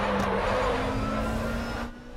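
GT3 race car in the RaceRoom game at Sonoma, engine droning steadily with a braking downshift and engine tone shifting, then fading toward the end.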